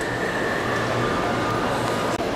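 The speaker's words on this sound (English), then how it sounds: "there's a two miles of model railroad track. Operates the train on the fastest track." A model railroad train runs along track at the EnterTrainment Junction layout with a steady rolling rumble and a thin whine, continuous and fairly loud, with no clear talking.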